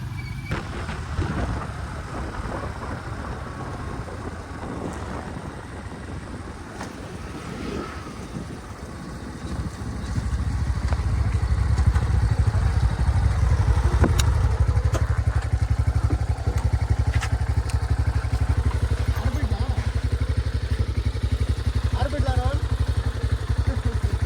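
A motorcycle riding on a road during a bike trip from Mysuru to Kotebetta, a steady engine drone with wind rumble that grows louder partway through, with people talking over it.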